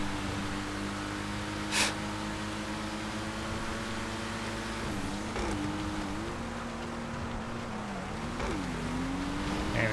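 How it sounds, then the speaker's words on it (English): Race truck engine in a GTA FiveM online race, a steady droning tone whose pitch bends and shifts as the driver changes speed, with a brief burst of noise near the start, moderately loud with no talking. "That race truck is fast."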